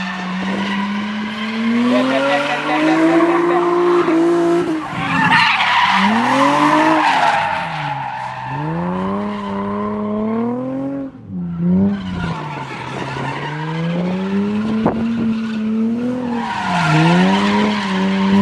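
A drift car slides around a track, its engine revving in rising and falling waves while tires squeal and skid almost continuously, loud and close.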